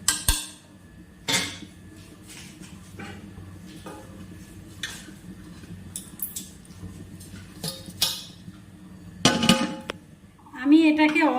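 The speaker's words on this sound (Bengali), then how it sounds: "এবার ঢাকনাটা খুলে নিলাম 15 মিনিট পরে।" A lid is lifted off a pot of Gobindobhog rice pulao after about fifteen minutes of cooking, giving a sharp metallic clink near the start and another cluster of clatter near the end over a quiet kitchen background.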